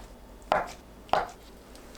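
A knife cuts through tofu onto a cutting board in two distinct, evenly spaced soft thuds, close and fairly quiet against a still background.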